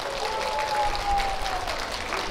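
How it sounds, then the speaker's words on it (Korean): Applause from an outdoor crowd fills the moment at a tree seedling festival's closing ceremony, a steady, moderately loud patter of clapping with a faint sustained tone behind it. "감사의 의미로 박수 부탁드리겠습니다"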